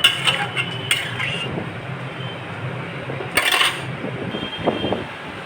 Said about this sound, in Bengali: এবার গরম জলটা এর মধ্যে দিয়ে দিলাম, দিয়ে এবার আলুগুলো নাড়াচাড়া করলাম।